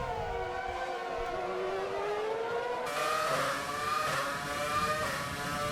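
Formula racing cars in a racing video game scream past at high revs, with rising engine whines building and layering as several cars close in, loud and steady without talk.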